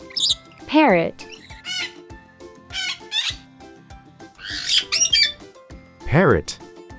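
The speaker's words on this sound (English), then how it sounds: "Parrot." A parrot squawks repeatedly in sharp, loud, close bursts with chirpy and raspy cries spread across the stretch, scattered pauses between calls.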